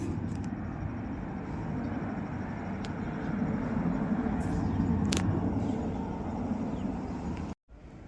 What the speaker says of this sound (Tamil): இன்ஜின் வந்து ஸ்பீட் இன்க்ரீஸ் பண்ணுற சவுண்டு இது